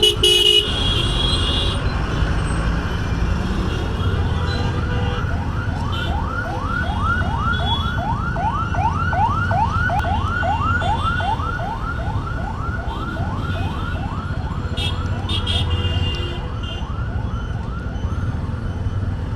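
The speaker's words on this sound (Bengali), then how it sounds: "মেন রাস্তায় নামতে না নামতেই শুরু হয়ে গেছে ট্রাফিক" Dhaka street traffic jam with a wailing emergency siren that rises and falls in steady repeated sweeps, loud and close, over constant engine rumble and scattered horn toots.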